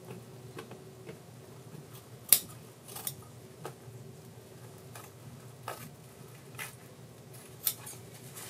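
Scissors trimming the taped neck of a homemade dress form, giving a series of soft snips and light clicks spread across the stretch, with a few sharper cuts standing out against a quiet room.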